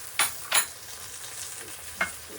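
Curry leaves dropped into hot oil for a drumstick curry, giving three sharp crackling bursts over a low, steady sizzle, close and clear with no talk.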